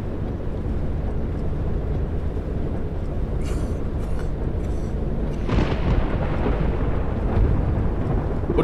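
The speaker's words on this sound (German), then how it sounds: "Gerade ein Auto vom Blitz getroffen?" Lightning strike and rolling thunder in Fernbus Simulator, a loud continuous low rumble with a few crackling bursts and a sharper crash midway, sustained throughout.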